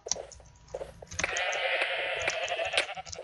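Sheep bleat in the Minecraft game on a Mineplex server, one drawn-out wavering bleat following a few short clicks and taps, fairly quiet and with no talking.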